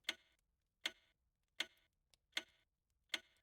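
A clock ticks in the video game We Were Here Together, five crisp, evenly spaced clicks about three-quarters of a second apart, each sharp and bright with a short tail, quiet and alone against silence.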